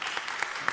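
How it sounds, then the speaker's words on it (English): Brief burst of applause from a crowd at a California press briefing, a quick patter of claps spread evenly across a fraction of a second. "I'm going to applaud."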